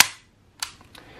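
An AREX Rex Zero 1 T pistol is dry-fired double-action: a sharp, close metallic snap, then a second crisp click about half a second later and a faint trailing tick, with no talk.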